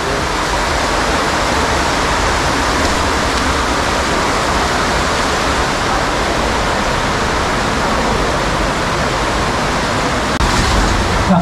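Water pouring and rushing through an underground river cave entered via a pipe, a dense, steady hiss-like roar filling the space at close range, unbroken and loud for the whole stretch.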